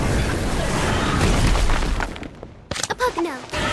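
Fiery blast of an Incendio spell in the game Harry Potter Magic Awakened, a loud dense roaring burst over the first two seconds that fades, followed by brief chimes and a shouting voice.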